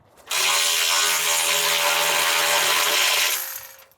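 A power tool drives a bolt on a Chevy van, whirring loudly for about three seconds, a continuous high-pitched buzzing drive that starts abruptly and winds down at the end.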